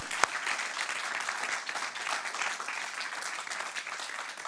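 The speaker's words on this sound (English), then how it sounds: "ladies and gentlemen, one warm applause for Han van Ruler" An audience at a lecture gives steady, dense applause, many hands clapping at moderate distance throughout without a break.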